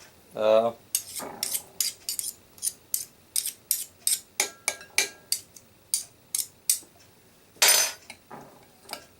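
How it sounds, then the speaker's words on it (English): A utensil clinks and scrapes against a bowl while egg salad is mixed, a quick series of sharp, close taps and scrapes in an irregular rhythm, with no talking. "Mix it all up, make sure it's good."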